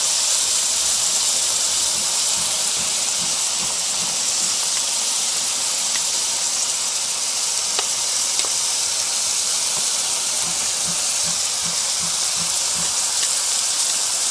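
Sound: pork and kimchi sizzling while being stir-fried in a pan

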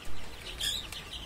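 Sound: young chickens clucking

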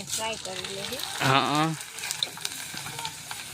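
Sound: frying chevdo in a pan

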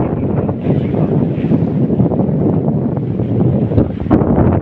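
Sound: strong wind

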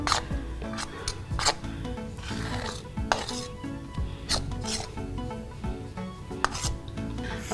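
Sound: mixing flour with oil in a bowl

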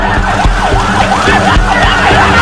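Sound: fire truck sirens

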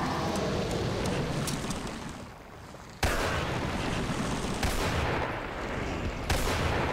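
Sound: gunshots in video game Resident Evil 4

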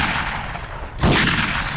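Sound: gunfire in a video game

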